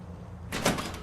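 Doors in Fallout 4 with the Sim Settlements 2 mod open with a short, bright mechanical clatter that starts abruptly halfway through, fairly quiet and alone.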